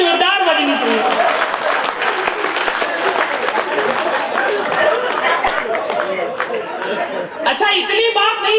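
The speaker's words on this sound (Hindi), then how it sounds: "तालियां जोरदार बजनी चाहिए।" Loud, sustained applause from a kavi sammelan Holi Milan poetry audience, dense clapping with scattered chuckles and crowd chatter mixed in, filling the hall without a break.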